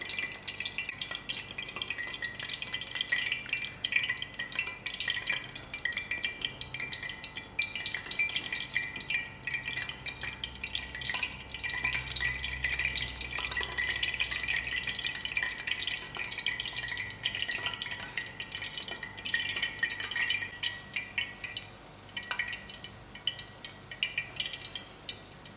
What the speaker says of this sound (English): you just keep moving them around so they fry evenly and they color evenly